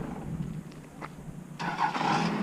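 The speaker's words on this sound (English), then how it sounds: "Just love those diesels." Diesel engines run with a low, steady rumble that swells into a louder, rougher surge partway through, heard from a modest distance with no talking.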